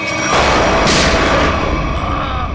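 Gunfire in a CID crime TV episode: a loud, dense blast of noise that swells early and rumbles on without a break for the whole stretch.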